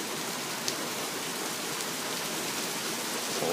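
Heavy morning thunderstorm rain, a constant broadband wash of falling water close around, with one brief sharp tick early on and a slight swell at the end.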